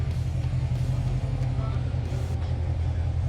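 A Chevrolet Corvette C7 fitted with headers rumbles low and steady as it is backed onto a dyno, a deep near engine drone with a voice talking over it.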